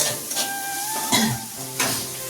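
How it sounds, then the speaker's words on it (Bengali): Eggs and potatoes sizzle and get stirred in a hot pan, a steady frying hiss broken by three louder scraping strokes, close and with no talking. "ডিমে এখন কষানো চলছে, আর এখানে ডিম আছে আর আলু আছে"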